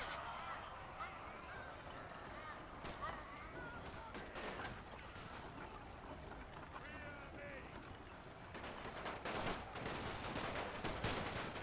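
Scattered gunshots in a Great War Total War WW1 battle mod, sporadic distant cracks and bursts of fire over a battlefield din, faint beneath someone narrating.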